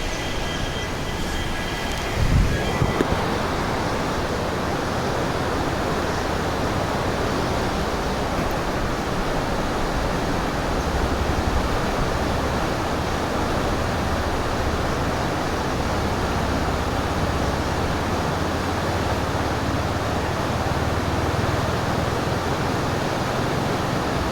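A steady, loud roar of rushing river water fills the scene without pause, with a brief knock near the start and no voices.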